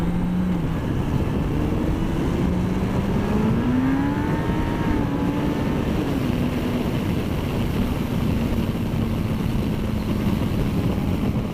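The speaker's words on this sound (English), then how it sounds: "My clutch slipped." Truck engine revving under load as the clutch slips, a steady loud drone with rising and falling pitch sweeps throughout, no talking.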